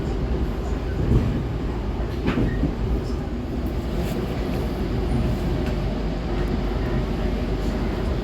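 The Jayakarta Premium passenger train rumbles along on its way into Bekasi station, a continuous low roar with faint wheel clatter, heard from inside a carriage.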